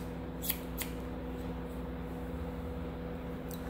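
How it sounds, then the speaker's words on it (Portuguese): Sharp scissor snips cut the ends of straight hair during a traditional haircut, two quick close snips early and another near the end over a steady low background hum. "Vou cortando, tirando só as pontinhas."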